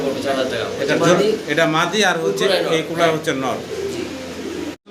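Fancy pigeons coo in low, rolling calls close by, mixed in with people talking over them.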